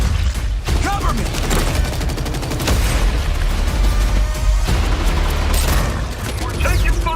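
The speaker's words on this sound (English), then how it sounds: "We're taking fire from both sides!" Heavy gunfire and booming blasts from a Gears of War E-Day battle roar continuously and loud, dense volleys layered with impacts and mechanical clatter, with voices shouting over the din.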